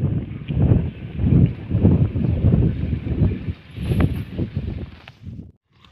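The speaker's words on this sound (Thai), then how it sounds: "ผมอาจจะไม่ได้ยินเสียงชัดนะครับเพราะว่าลมแรง" Strong wind buffets a microphone outdoors, a continuous loud low rumble that swells and gusts steadily throughout, then cuts off abruptly at the very end.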